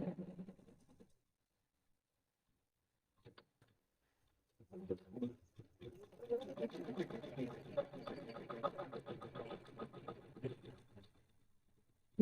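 A Usha 550 computer embroidery machine starts up and stitches a flower design, a steady rapid mechanical patter running for several seconds after a short start, with some faint sounds before it.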